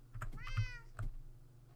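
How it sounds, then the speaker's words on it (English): A Minecraft cat meowing once, a clear rising-falling mew in the middle of quiet keyboard clicks and soft knocks, close and moderately loud. "There goes the cat."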